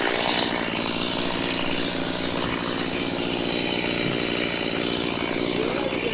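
A chainsaw cuts through timber for a garden room base, a loud continuous buzzing whine held steady for several seconds at close range, with no talking.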